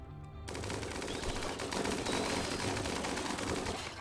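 Rapid automatic gunfire from colonists in RimWorld erupts after a brief quiet start and continues as a dense, loud, sustained burst of overlapping shots to the end.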